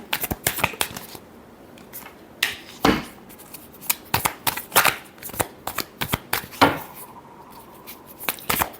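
Tarot cards shuffled by hand in a series of crisp riffling bursts and sharp slaps, close and fairly loud, with brief pauses between runs and no talking.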